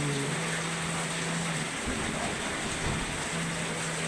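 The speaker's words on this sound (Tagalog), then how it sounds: "tuloy-tuloy lang ang ulan guys. Magdamag ang ulan." Heavy overnight rain in Dasmariñas, Cavite: a dense, constant hiss of falling water, loud and close, with a low steady hum underneath and no clear talking.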